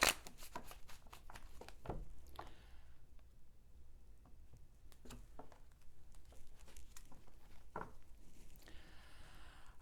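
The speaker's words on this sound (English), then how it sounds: "Let's do one more shuffle" Tarot cards are shuffled by hand in quick, crisp riffling bursts and soft flicks, close and quiet, with short pauses between bursts.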